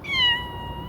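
A cat lets out a single clear, drawn-out meow close by, which tails off into a low background rumble.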